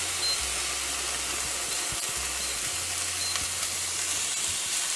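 Beef searing in a hot pan with a knob of butter added makes a steady, moderate sizzle and hiss, with a low hum underneath and a few faint knocks.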